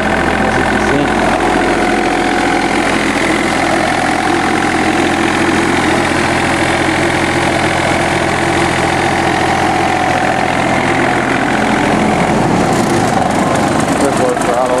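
A John Deere F1145 diesel mower engine runs loud and steady at close range with a heavy vibrating drone, dropping in pitch near the end as the throttle changes.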